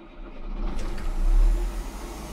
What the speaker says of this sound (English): It's now safe to start the machine.